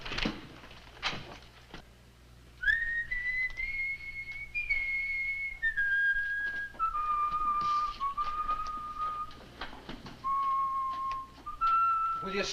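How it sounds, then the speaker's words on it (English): Someone whistles a slow tune in long sustained notes that step down in pitch, clear and fairly close, set against a quiet room with a few faint knocks and rustles. "Will you stop that infernal whistling?"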